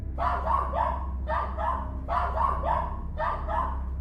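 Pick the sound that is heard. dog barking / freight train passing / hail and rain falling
dog barking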